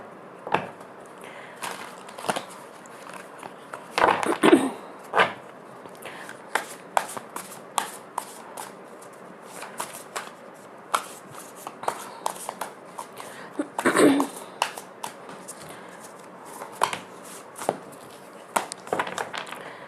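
Tarot cards being shuffled by hand over about twenty seconds, a steady run of soft riffling and sharp flicking snaps, close and fairly quiet, with faint speech in the background.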